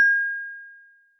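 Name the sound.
simulated bell ding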